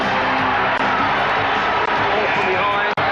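Record crowd of over 23,000 at a 1989 National Soccer League match, a dense, steady roar of cheering and shouting filling the stadium throughout, with brief dips.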